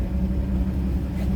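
A 1954 Chevrolet 3600 pickup's 235 inline six runs at a steady, smooth idle, a constant low rumble heard up close with no other sounds.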